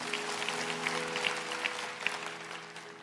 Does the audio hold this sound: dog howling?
no